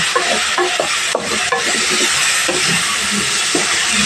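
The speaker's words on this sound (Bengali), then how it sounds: "চিকেনটাকে ভালো করে ফ্রাই করে নিতে হবে।" Chicken pieces frying in a pan with chopped garlic and ginger, a loud continuous sizzle and steamy hiss close by, broken by a few short stirring clinks and scrapes.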